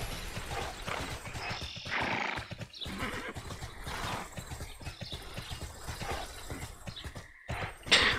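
A horse summoned in the online game TERA neighs and whinnies, its hooves clip-clopping steadily throughout, fairly close and clear with no talk over it.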